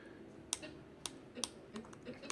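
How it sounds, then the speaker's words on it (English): Arrow keys on a computer keyboard are tapped during video editing in Adobe Premiere, giving several soft, separate clicks spread over about two seconds. The taps are close but quiet, and there is no talking. "you can hit left and right on the keyboard, and it'll move by single frames"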